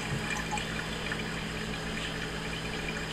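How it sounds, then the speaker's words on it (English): Sweet potato shoestrings are rinsed under running tap water, a steady close rushing splash that fills the whole moment without pause or voices. "quick rinse isn't going to hurt anything. Okay, wash that off."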